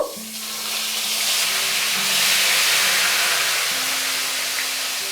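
Onion paste fries in hot oil over medium heat for an Amritsari chicken curry, a dense steady sizzle that swells and holds, with faint background music underneath.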